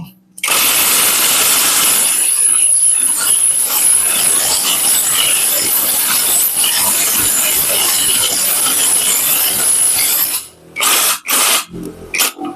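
A THAKITEC TK-PRO-W850 cordless 850 Nm impact wrench hammers at maximum tightening torque with a loud, close, continuous rattling whine held for about ten seconds. It cuts off abruptly, followed by a few short bursts.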